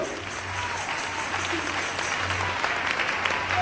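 A church congregation applauding in praise of Jesus, a dense steady wash of many clapping hands at moderate loudness that holds throughout, with a low hum beneath.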